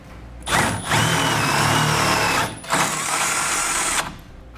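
A power drill with a 3/8 inch bit enlarges the final hole in a side step mounting bracket for a 1994 truck, running in two loud whirring bursts separated by a short pause, close and with no speech.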